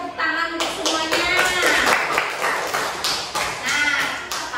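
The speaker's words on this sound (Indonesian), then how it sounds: "tepuk tangan untuk semuanya" A group in a classroom claps and applauds steadily throughout, with voices mixed in under the clapping.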